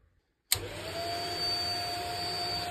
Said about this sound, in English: And the Hoover works!